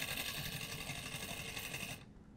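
A homemade 3-pole DC motor spins on a 9-volt battery with a steady, buzzy high whir that holds constant and then cuts off near the end.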